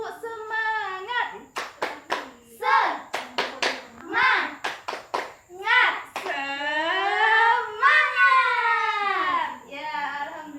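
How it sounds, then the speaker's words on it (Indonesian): A school class claps a rhythmic spirit clap in a math lesson, sharp hand claps in quick patterned bursts mixed with children chanting and shouting together, loud and close. "Tepuk semangat."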